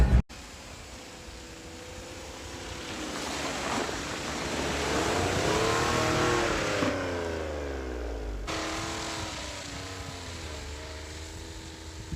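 A Suzuki Carry mini truck fitted with tracks drives through snow, its engine droning steadily and rising and falling in pitch as it revs, close and loud throughout, with no voices.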